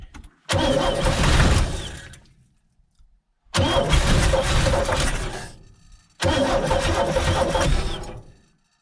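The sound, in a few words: 1965 Chevy G10 van engine starting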